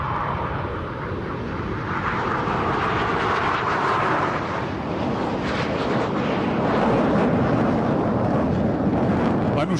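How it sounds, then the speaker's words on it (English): Indian Air Force Surya Kiran aerobatic team jets taking off at Hindon Air Force Station on Air Force Day, a loud, steady broadband jet roar that swells slightly toward the end, with no speech over it. "That's a glimpse of the Surya Kiran aerobatic team, the aircraft, now taking off for a display a little later."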